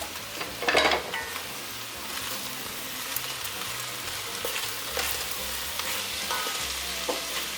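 Cooked ground beef and canned corn stirred together in a hot pan, a steady sizzle broken by scraping and the occasional clatter of a spoon against the pan.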